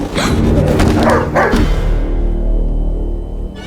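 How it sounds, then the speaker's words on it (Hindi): A dog indoors gives a few loud, close barks and yips in the first half, then they fade into a low rumbling background with no talking. "एक कुत्ता घर में घुसा है।"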